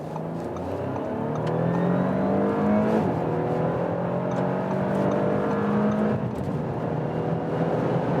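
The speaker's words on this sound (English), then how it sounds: "nice acceleration from the 3-liter 6-cylinder engine" An Audi's 3-liter six-cylinder engine pulls hard and steadily on a motorway, its pitch climbing through the gears with a gear change midway, loud and continuous from inside the cabin.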